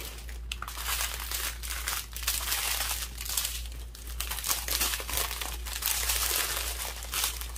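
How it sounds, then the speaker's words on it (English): Plastic packaging of diamond art drills crinkles and rustles continuously up close, loud crackling bursts over a steady low hum. "Sorry for all the crinkling noise."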